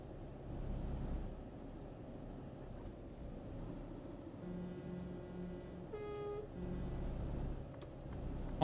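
Truck horn in Euro Truck Simulator 2 multiplayer gives a few steady tonal honks, the longest in the middle, over a continuous low engine rumble, with no talking.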